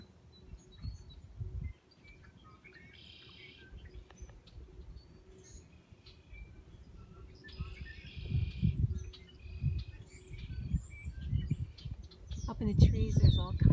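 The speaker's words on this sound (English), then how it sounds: "Up in the trees there's all kinds of birds." Several birds sing and chirp up in the trees near a house, with short bursts of song repeating above a low outdoor background rumble that swells toward the end.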